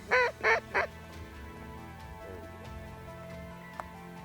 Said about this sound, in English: we just had a nice little bunch of honkers come in too